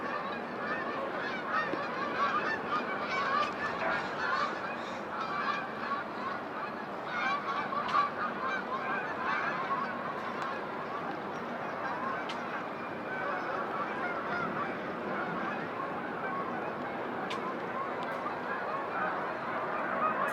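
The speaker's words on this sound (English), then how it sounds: "I hear the geese." A large flock of geese honking continuously over a river, a dense chorus of overlapping calls at moderate distance, steady for the whole stretch with no talk.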